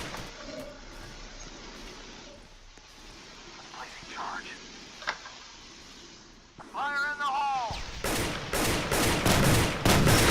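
Gunfire in a police counter-terrorism shooter game: after a quiet stretch with soft whispering, a rapid burst of loud, close shots erupts near the end, with brief talk mixed in.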